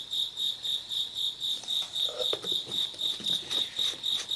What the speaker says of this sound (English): Hear that cricket?